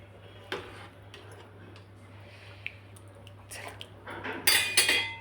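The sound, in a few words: placing a lid on a pot of boiling potato wafers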